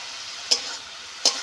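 Cabbage fries in a pan under a steady, bright sizzle as fried prawns go in. Two sharp metallic clicks sound from a spoon against the pan, close up with no voices.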